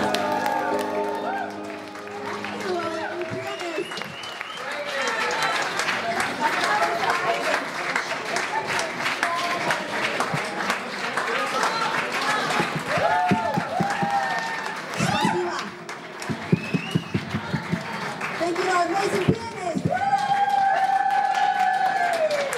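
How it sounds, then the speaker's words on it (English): A large Eurovision fan crowd cheers and applauds for over twenty seconds, a broad wash of clapping and shouts with a voice talking over it and occasional whistles and sharp peaks. "It's a big fan crowd."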